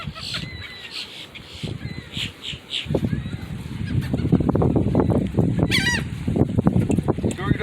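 Geese honking repeatedly and loudly at close range while being fed on a beach at Myrtle Beach, a dense, overlapping chorus of calls that grows busier toward the end.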